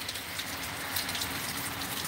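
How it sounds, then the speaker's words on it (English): Steady rain pouring outside on a very rainy day in California, an even, hissing wash of drops at close range with no voices. "look at the rain."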